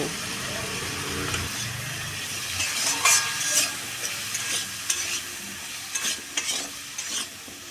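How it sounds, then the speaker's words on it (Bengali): Shyama rice and potatoes fry with salt and turmeric for Ekadashi khichuri, with a steady sizzle and repeated scraping stir strokes. "নুন হলুদ দিয়ে এটাকেও ভেজে নেব"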